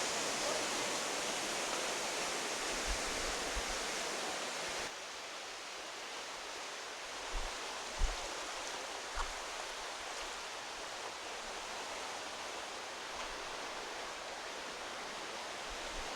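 Steady broadband rush of the Aruvikarai waterfall, moderately distant and even, with a few faint low thumps and no talking.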